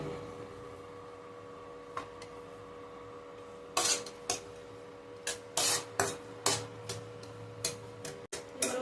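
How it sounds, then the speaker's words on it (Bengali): Small chopped coconut pieces are stirred and fried in oil, with a quiet bed of frying under it and a scatter of sharp spatula scrapes and taps against the pan that grow more frequent in the second half. "এগুলোকে আমি তেলের মধ্যে হালকা করে নাড়াচাড়া করে ভেজে নেব"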